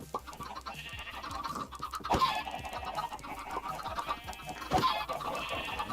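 Chickens in Minecraft cluck and squawk repeatedly at close range, with a couple of louder bursts over a busy, moderately loud background.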